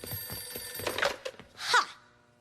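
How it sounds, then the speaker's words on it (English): A telephone bell rings loudly in a cartoon scene, a bright burst of jangling that rises after some thuds and clatter and then dies away. "The telephone!"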